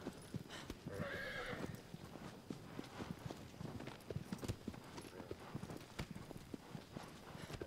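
In the video game Shadow of the Colossus, a horse's hooves clip-clop in a steady galloping rhythm, with a brief neigh near the start, fairly faint throughout and no talk over it.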